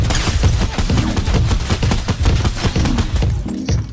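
AK assault rifle fire in Fortnite, loud and close in a rapid, steady stream of shots that runs almost the whole time, easing only near the end.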